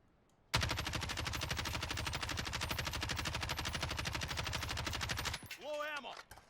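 A Kilo rifle fires at range in Warzone, a rapid, sustained automatic burst of loud, evenly spaced shots lasting about five seconds, followed by a brief game sound effect once the firing stops.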